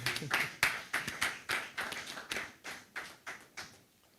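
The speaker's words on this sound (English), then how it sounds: "Please, I thought you would clap." A small crowd at an app launch event claps in a loose, fairly steady rhythm, roughly a dozen distinct claps, fairly faint and fading toward the end.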